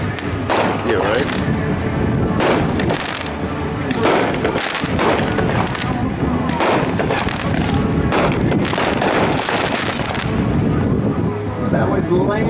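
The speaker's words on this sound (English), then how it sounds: "That was number 35, Land of the Free. It's an 18-1 pack cake," An 18-shot Land of the Free firework cake with improved red effects fires at an outdoor fireworks demo, a dense run of booming bursts and crackling reports filling the whole stretch, loud and continuous with wind buffeting.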